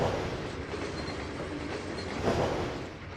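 A coal train rolls along in the Trainz 2022 railway simulator, its wheels and cars giving a steady, dense rumble with a slight clatter and a brief swell of wheel noise partway through, with no talking.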